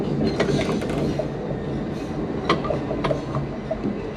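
A Christchurch heritage tram running on its rails, a steady rumbling roll with occasional sharp clicks and rattles from the wheels and car, close and continuous with no talk.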